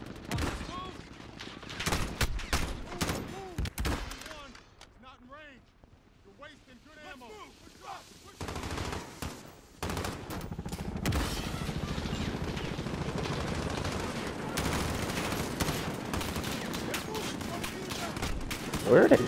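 Gunfire in the video game Call of Duty Modern Warfare, with bursts of rapid shots and heavier blasts in a loud, dense exchange, alongside a player talking.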